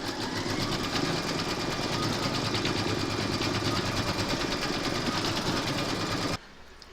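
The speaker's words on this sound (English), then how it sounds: "Pop your hoop into your machine and stitch round number 3 to secure it." An embroidery sewing machine stitches a quilted Christmas door tag in a hoop, a steady fast mechanical whir with rapid needle chatter running evenly for about six seconds before stopping abruptly.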